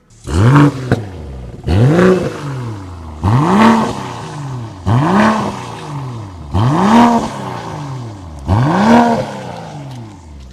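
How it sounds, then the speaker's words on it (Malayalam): BMW M340i exhaust revved six times at rest, each blip rising sharply and falling back in a clear, loud, evenly spaced pattern with brief gaps between. "ഇതിൻ്റെ എക്സോസ്റ്റ് നോട്ട് ഞാനൊന്ന് കേൾപ്പിക്കാം"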